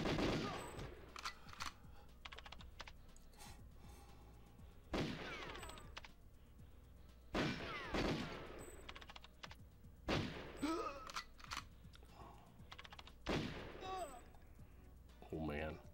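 Gunfire in the GoldenEye video game, with repeated sharp bursts and single shots spread across the stretch, some loud and near, over a steady game backdrop and occasional talk.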